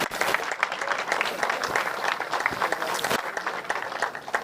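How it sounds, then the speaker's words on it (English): A crowd at the Kart-Arena Cheb circuit gives a big, loud round of applause at a German kart championship race day, with dense, continuous clapping and some cheering holding steady throughout. "please provide a big round of applause for the circuit to host us"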